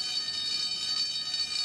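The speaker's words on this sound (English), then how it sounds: "The alarm has sounded!" A fire alarm at a fire station rings as a steady, high-pitched electronic tone that holds without a break, moderately loud and alone.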